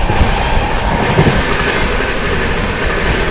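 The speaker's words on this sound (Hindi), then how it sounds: "सामने से आती हुई न्यू दिल्ली से चलकर पटना की ओर जाने वाली न्यू दिल्ली पटना राजधानी एक्सप्रेस" New Delhi–Patna Rajdhani Express passing close in the opposite direction, a continuous loud roar of wheels and wagons with faint clatter and a light squeal, no voices.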